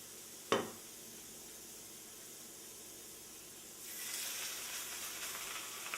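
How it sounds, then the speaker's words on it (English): A sharp pop, then a soft steady hiss that swells into a louder, broader sizzle of sandwich meats frying in a pan, with no voices. "Oh, you hear that sizzle?"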